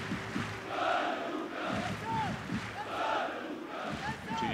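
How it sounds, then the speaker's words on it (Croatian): A football crowd in a stadium whistles in protest at a foul, shrill rising whistles repeating over a loud, continuous roar of massed voices, distant and sustained. "izaziva koncert zvižduka"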